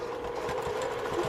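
A sewing machine stitches a doily onto the edge of a quilt with black thread, a steady, rapid mechanical whir that runs continuously and close by.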